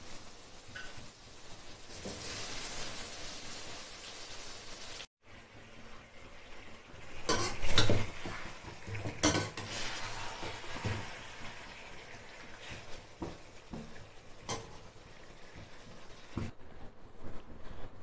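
Chicken pieces stirred into frying ginger-garlic paste for a Tamil green chicken gravy, giving a steady close sizzle with repeated scraping of a spoon against the pan and clinks of utensils, a brief pause midway, no talking.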